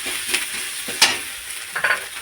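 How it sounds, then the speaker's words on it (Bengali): Ginger and green chili paste with a pinch of asafoetida frying in hot oil, a close, bright sizzle with a few sharp spatula scrapes and clinks against the pan, no voices. "আদা কাঁচা লঙ্কা বাটাটা এইভাবে আমি একটু তেলের উপর নেড়ে দিচ্ছি"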